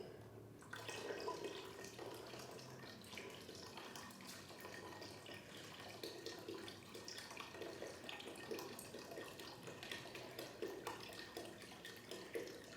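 Liquid from 48-ounce cartons poured into a pot of soup over a roux, a steady continuous pouring and splashing wash that carries on evenly throughout with no talking.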